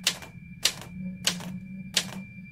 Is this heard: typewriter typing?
yes